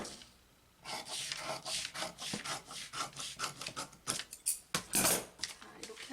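Scissors cut through paper for the back panel of a pleated wide skirt-pants sewing pattern, a series of close, rhythmic rasping snips that quicken and grow louder toward the end.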